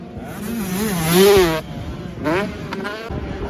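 Motocross motorcycles racing at a French Elite championship round on the Vesoul track, engines rising and falling in pitch as they pass fairly close, with a commentator talking over the sound.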